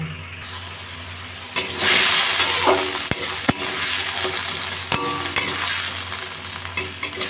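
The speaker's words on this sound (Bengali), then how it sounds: "এই তেলের মধ্যেই কালো জিরে, একটা পাকা লঙ্কা ফোড়ন দিয়ে দিলাম। এবার কেটে রাখা মিষ্টি কুমড়োগুলো দিয়ে দেব।" Sweet pumpkin pieces drop into hot oil with nigella seeds and a dried red chilli, raising a loud steady sizzle with sharp clatters of utensils against the pan, close by and without any talk.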